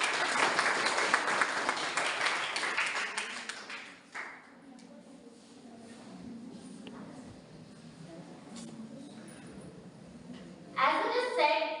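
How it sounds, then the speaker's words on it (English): Applause from a school audience at an inter-school English elocution contest, loud at first and fading over about four seconds, followed by a quieter stretch of room noise with scattered taps. "Please welcome her with a round of applause"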